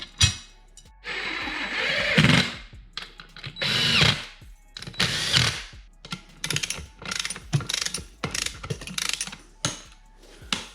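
Power tool running in repeated bursts while torquing the ring bolts on a double beadlock off-road wheel, short whirring and ratcheting pulses with brief pauses between, close and fairly loud.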